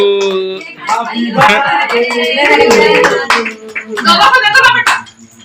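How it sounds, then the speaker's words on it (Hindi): A few people clap in a loose, uneven rhythm at a child's birthday party at home, mixed in with loud close-up singing and chatter. "चलो तालियां बजा दो भाई"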